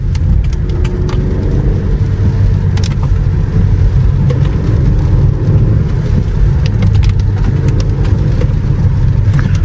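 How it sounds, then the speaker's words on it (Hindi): A Renault Duster 1.3 turbo engine revs steadily uphill in second gear, producing a loud, continuous, low engine roar heard from inside the car, with no talking. "सेकंड गियर पे मैं चढ़ाने लग रहा हूँ इस गाड़ी को, एंड बहुत जेंटल रोर कर रहा है।"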